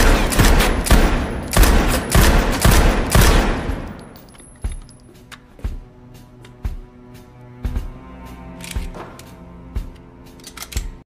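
Gunfire at a shooting class in a film: a rapid, loud burst of shots for several seconds, then sparser single sharp cracks and clicks with quieter gaps between them.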